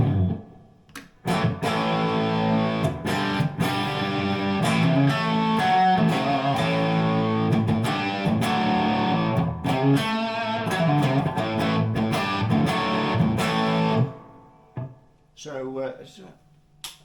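Electric guitar played through the distorted lead channel of a Mesa Boogie Studio Pre-Amp, with sustained, heavily overdriven notes and chords broken by sharp picked attacks, ending in a few quieter notes.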